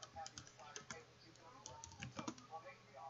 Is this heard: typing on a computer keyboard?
yes